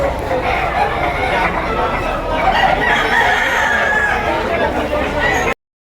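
Roosters crow over each other at a busy gamefowl market in Batangas, with loud, overlapping calls, clucking and steady crowd chatter throughout.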